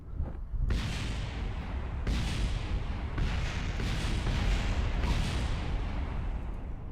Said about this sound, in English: Is there still things exploding down there?